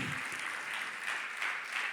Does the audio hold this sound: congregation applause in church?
yes